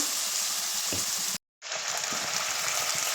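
Boneless chicken pieces frying in browned garlic in a pan, a loud, steady sizzle that cuts out briefly and then resumes just as strongly.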